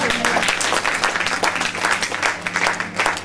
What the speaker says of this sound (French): Applaudissons Jéhovah.